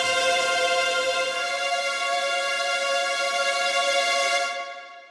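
Jaeger ensemble strings sample library playing a high sustained tremolo chord, bright and shimmering, held steadily for several seconds before fading out near the end, with no voices.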